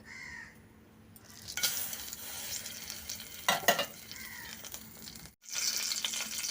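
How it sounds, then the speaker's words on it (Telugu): Dried red chillies sizzling in hot oil for a tempering, a steady crackling fry close by with stirring scrapes, a brief loud burst midway, a short cutoff, and crows cawing in the background. "ఇప్పుడు ఇందులోనే మనం కట్ చేసి పెట్టుకున్న ఎండుమిర్చి వేసుకుందామండి"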